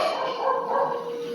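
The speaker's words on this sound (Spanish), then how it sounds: "Ahorita van a ladrar un poco los perros." Dogs barking somewhere nearby in a steady, continuous run of yelps and barks that fills the whole stretch at moderate volume, with no talk over it.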